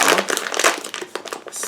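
Vacuum-sealed plastic package holding puff balls for hats crinkles and crackles close up, in a busy run of rustling bursts and sharp crumples for nearly two seconds.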